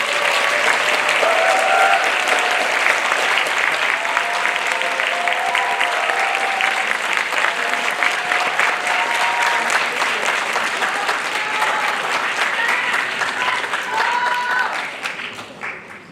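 Sustained audience applause at a Korean film screening talk, a dense wash of clapping that holds steady and tapers off at the end.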